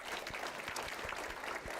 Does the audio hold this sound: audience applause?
yes